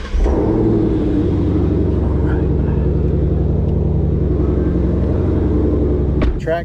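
A 2020 Ford Mustang Shelby GT500 Track Pack with a 760-horsepower engine, rumbling loudly and steadily up close, a deep idle-to-cruise burble that holds throughout before a brief sharp noise near the end.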